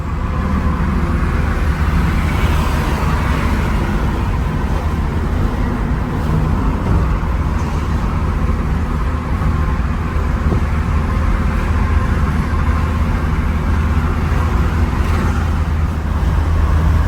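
A 1986 Dodge Daytona cruising at interstate speed on new tires, with a steady, loud drone of engine, tire and wind noise that stays constant throughout.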